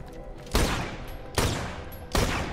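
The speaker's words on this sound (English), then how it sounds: "God, I already got an explosion." Grenade-like weapon blasts in the video game Borderlands: The Pre-Sequel: three loud, booming explosions spaced roughly a second apart, each with a long rumbling tail.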